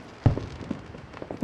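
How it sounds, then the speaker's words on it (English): New Year's fireworks in Hawaii: one dull boom early on, then scattered faint pops and crackles from some distance, set against low background noise. "Hawaii has a lot of fireworks around New Year's, and so I recorded the fireworks last night"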